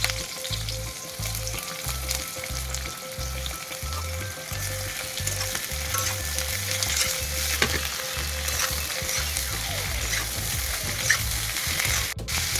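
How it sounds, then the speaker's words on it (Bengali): Onions slid into hot oil for an onion-and-poppy-seed dish sizzle steadily and loudly, with a dense, continuous frying hiss and occasional stirring scrapes throughout, and no talking. "এবার পেঁয়াজগুলো আস্তে আস্তে তেলের মধ্যে ছেড়ে দেবো।"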